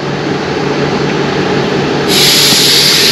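A passenger train at Lazarevskaya station on the Sochi coast makes a loud, steady rumble with a low hum, and a bright hiss or squeal joins in partway through.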